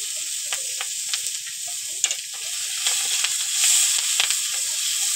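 Onion paste, garlic and split green chilies hit a pan of hot oil with bay leaf and five-spice seeds, hissing in a bright, continuous sizzle up close, with a few sharp stirring scrapes.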